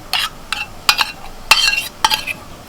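Poppy seed paste is worked into fried flat beans in a tiffin bowl, making close, bright clinks and scrapes of a spoon against metal in four or five quick strokes.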